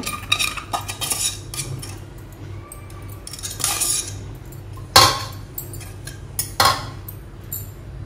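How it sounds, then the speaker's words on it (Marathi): Hot modak dough kneaded with a small bowl on a plate, scraping and clinking of metal against the plate with a few sharp knocks. "आपण असं वाटीने मळून घ्यायचं आहे थोडंसं थंड होईपर्यंत"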